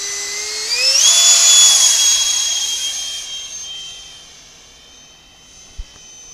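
A Freewing P-15 RC jet plane with an electric ducted fan screams past, its whine rising sharply in pitch, peaking loud and close, then fading as it flies off, followed by a brief thump.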